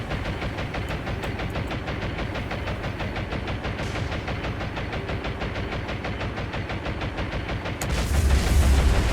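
In the naval video game War on the Sea, bombs strike a destroyer amid a dense, rapid crackle of gunfire that holds steady, then a heavier, louder rumble of blasts near the end.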